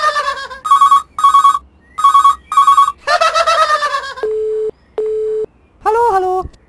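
A telephone rings in a series of short double bursts, followed by steady flat tones on the line. The sound is loud and close, with no talking over it.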